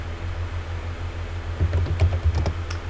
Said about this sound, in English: Then, type in the email address